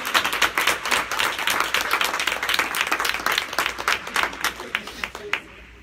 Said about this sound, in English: Clap your hands all around.